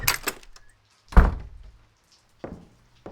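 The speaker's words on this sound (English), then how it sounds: "Let me get the door for you." A door opens indoors during a storm: a soft click, then a heavy low thunk and a couple of quieter knocks and bumps, close and spaced apart with no talking.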